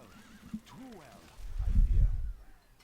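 A horse neighs in the Stronghold Crusader strategy game, a whinny early on with low rumbling battle or game noise swelling up midway, moderately loud over a busy background.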